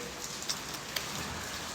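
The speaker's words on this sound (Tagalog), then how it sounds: "Ang lakas ng ulan," Heavy rain falls steadily in a dense, even hiss, with scattered louder drops landing on a nearby surface. No voices are heard.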